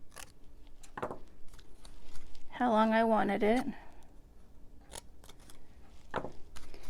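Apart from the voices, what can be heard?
scissors snipping paper for a stamped planter box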